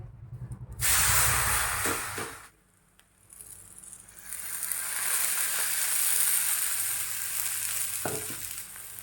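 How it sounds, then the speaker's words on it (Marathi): Oil sizzles loudly on a hot griddle for green moong thalipeeth, a strong hiss that briefly drops away, then returns as a sustained frying sizzle with occasional soft knocks. "तव्यामध्ये थोडंसं तेल टाकूया"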